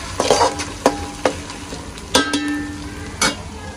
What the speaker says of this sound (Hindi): इसी में मैंने अभी डाल दिया अदरक लहसुन का पेस्ट